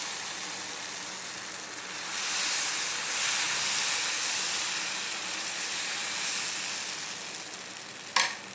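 Dosa batter poured into a hot appam pan for bun dosa sizzles with a steady broadband hiss that swells slightly partway through and holds, ending with a brief sharp clatter; no one talks.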